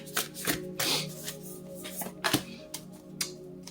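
A tarot card deck being shuffled by hand, with several quick riffling bursts and sharp card snaps spread unevenly, close and fairly quiet against a faint background hum.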